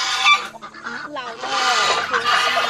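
Geese and turkeys honk and gobble at a family gathering. The calls come in loud, rough bursts, one after another, with a short lull between.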